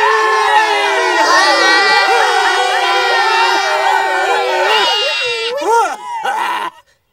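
An animated cartoon crowd yells together in a loud, sustained clamor of many voices, high and bleating in tone, before breaking up into a few scattered calls and fading out.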